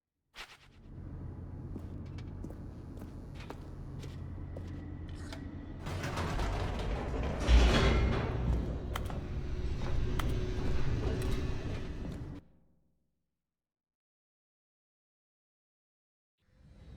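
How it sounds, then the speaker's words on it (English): An elevator in The Stanley Parable video game descends with a steady mechanical hum and creaking rumble that swells midway with clanks, then cuts abruptly to silence. "The elevator raced downward, plummeting towards an unknown fate."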